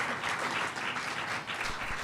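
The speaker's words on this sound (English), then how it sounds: "Give yourselves a round of applause" Audience applause fills a town hall with dense, steady clapping from a crowd, moderately loud throughout the short stretch.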